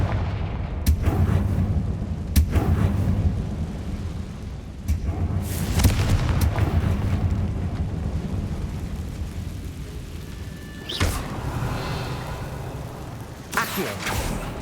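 Hogwarts Legacy spell combat in a catacomb, with Confringo fire blasts: several loud, sharp booming bursts spread across the span, each trailing into a rumbling decay, with spoken voices in between.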